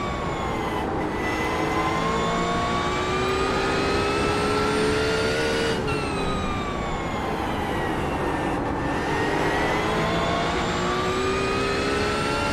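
Several BMW cars roar through a racing video game, engines droning steadily at high revs with pitch sweeping up and down as gears shift, loud and continuous with no talking.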